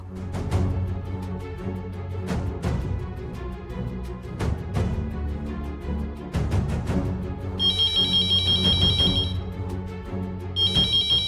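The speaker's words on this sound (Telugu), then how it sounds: "ఫోన్ వస్తోందండి." A phone ringtone chimes in two bursts over steady rhythmic background music with regular beats; no one speaks.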